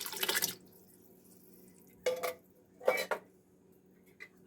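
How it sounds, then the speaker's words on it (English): Liquid from canned vegetables is poured into a soup pot in a few short splashing bursts with quiet gaps between, close by. "So I'm putting liquid, all the liquid in here with these vegetables."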